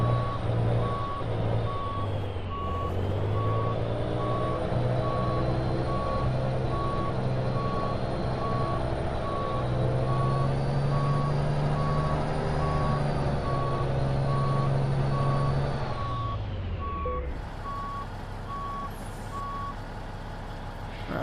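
A Kenworth T600 day cab truck backs a trailer into place in Euro Truck Simulator 2, with a steady repeating reversing beep over a constant engine drone that drops away near the end.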